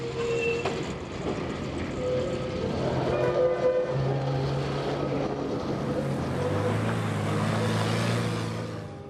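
An East German tram runs on rails near a depot triangular junction in a narrow street of timber-frame buildings: a steady, close rolling rumble with tonal wheel and motor whines that rise and shift, continuous throughout with no talk.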